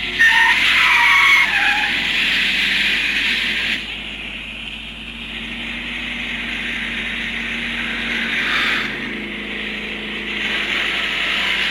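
Car tyres screech loudly as a car skids during a movie car chase, a long sustained squeal that fades and then returns over engine roar, with no talking.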